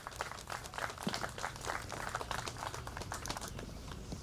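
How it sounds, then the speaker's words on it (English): Quiet, steady applause from an audience at a Fourth of July patriotic program in Hamilton, a soft continuous patter of many hands lasting a few seconds. "Round of applause for Emma."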